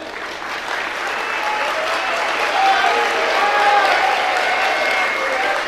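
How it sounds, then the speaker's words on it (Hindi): An audience at a religious discourse in Agra claps steadily, a broad wash of applause that swells slightly midway, with faint voices mixed in. "ऐसे ही तालियां मत बजाना"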